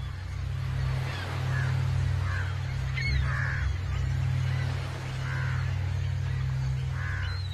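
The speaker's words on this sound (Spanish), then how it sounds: "Empiezan a juntarse los cuervos." Crows gather on a Sri Lankan beach, cawing in a string of short, separate calls over a steady low hum and background wash.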